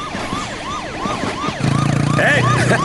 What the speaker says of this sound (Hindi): ये पुलिस सायरन सुनाई दे रहा है